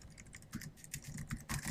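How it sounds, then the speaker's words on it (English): Quick bursts of clicky keystrokes on a computer keyboard, irregular and close, with short pauses between clusters of taps. "having trouble typing today"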